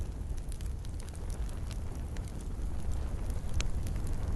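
A campfire burns outdoors beside a dugout shelter near a stream, giving a dense, steady crackle and hiss throughout with occasional sharper pops, fairly close and with no one speaking.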